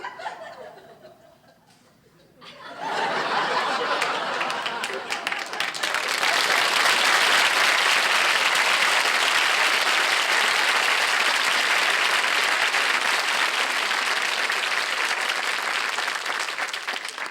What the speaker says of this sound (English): Now I'd like to do that same applause in slow motion.